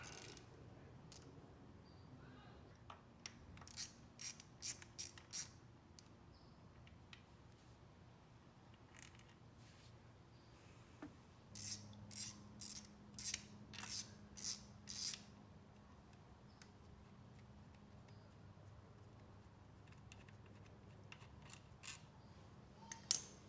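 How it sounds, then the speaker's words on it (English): A screw is backed out of an MV Agusta F4 motorcycle with a hand tool. Faint, quiet clusters of sharp ratcheting clicks come in short bursts, separated by near-silent pauses. "there's another screw right here and another one down here that we're gonna have to take off"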